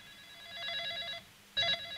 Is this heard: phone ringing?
yes